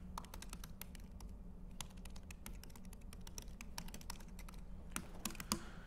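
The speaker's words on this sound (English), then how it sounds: "we can type in the username here" Rapid, steady typing on a computer keyboard during a mobile app programming lecture, with dense clicking keystrokes throughout against a low hum, no talk.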